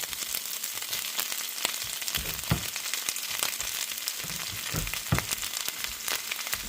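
Onions fry in a pan with kiska, an Eastern European blood sausage, giving a steady close sizzle broken by irregular louder crackles and stirring bursts, with no talking.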